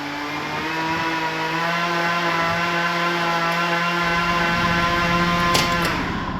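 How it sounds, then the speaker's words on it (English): A weed whacker runs in the background with a steady buzzing engine drone that holds a constant pitch throughout, near enough to be clearly heard. "Tecumseh starter and a weed whacker running in the background."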